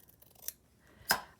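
Scissors cut a collaged fabric heart in a slow stitching project, with two quiet, close snips about half a second apart and the second one louder.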